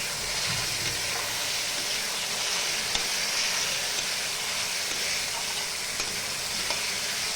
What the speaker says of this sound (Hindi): अब लहसुन को भूनेंगे प्याज के साथ।